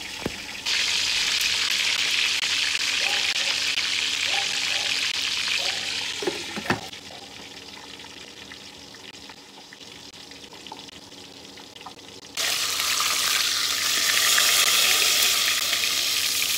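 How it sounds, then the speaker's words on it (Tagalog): Fish frying under a lid gives a steady, loud hiss of sizzling oil with a few clatters partway through, then the sizzle surges much brighter and louder near the end. No voices. "Ipapry ko naman yung fish ngayon. Medyo matalsikan kaya lalagyan ko ng cover."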